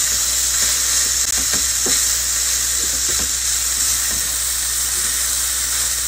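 Spaghetti stirred through meat sauce in a hot pan, a steady loud sizzling hiss with a few soft scraping strokes from the stirring.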